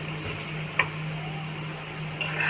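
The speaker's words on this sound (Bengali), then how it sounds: "এটা ভালো করে নেড়ে চেড়ে এবার চালটা দিয়ে দিতে হবে।" Fried potatoes are stirred in a pan over a low, steady sizzle, with a couple of brief scraping clinks from the utensil against the metal.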